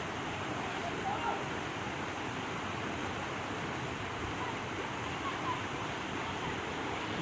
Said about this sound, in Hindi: भूपार वाटरफॉल बोलते हैं इसको